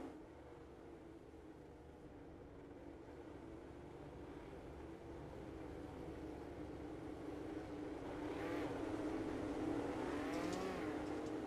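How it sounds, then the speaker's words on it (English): Midget race cars in a sim racing game rolling out as a field for a heat race, a steady low engine drone that builds gradually, with a rising rev near the end, no voices. "As the field begins to roll out, heat race number 2 about ready to fire off"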